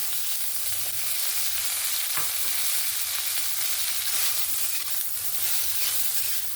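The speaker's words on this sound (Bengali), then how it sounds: "বেগুনটাকে একটু ভেজে নেব" Eggplant frying in a pan for a fish curry with bitter gourd, a dense continuous sizzle close up with occasional faint stirring knocks.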